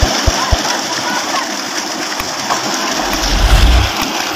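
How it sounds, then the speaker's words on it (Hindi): A solar-powered tubewell with a centrifugal pump, shown in Pakistan, throwing a strong, high-pressure jet of water that gushes and splashes steadily and loudly. There are a few low thumps near the start and a louder surge toward the end. "बहुत ज़बरदस्त प्रेशर है, बहुत ज़बरदस्त पानी दे रहा है।"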